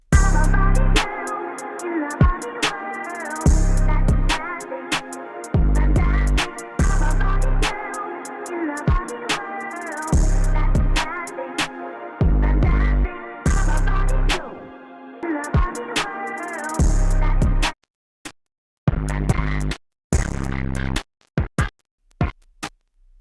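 Kick drum and 808 bass driven through the Brainworx bx_Clipper at extreme settings, hitting as heavy, distorted booming pulses in a steady beat pattern with short gaps, loud and upfront.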